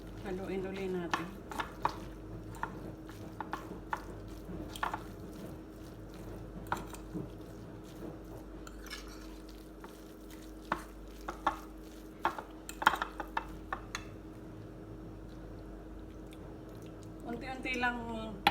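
A spoon stirs and scrapes through a leftover fried fish mixture for fishballs in a bowl, making faint repeated clicks and taps while someone talks throughout.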